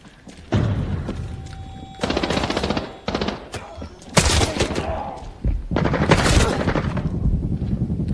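Bursts of automatic gunfire in the shooter game Arena Breakout, with loud rapid volleys and single heavy shots separated by short pauses, close and punchy throughout.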